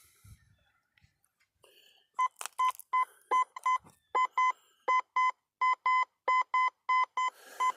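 A metal detector sweeping over buried metal while a detectorist hunts finds sounds a run of about a dozen clear, evenly spaced electronic beeps of steady pitch, close and alone after a few soft rustles.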